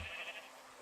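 A Minecraft sheep gives a short bleat, a brief tonal call at the start that fades quickly, alone and fairly faint.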